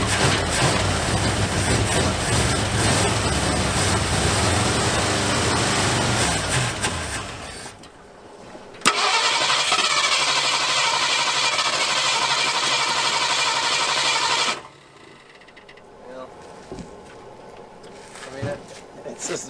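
An abandoned Ford F100 truck engine running rough and out of time, a loud, uneven mechanical roar that drops away and then returns, with people talking over it at times.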